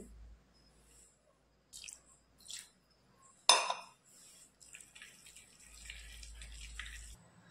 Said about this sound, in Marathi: थोडंसं पाणी मी इथे टाकून घेते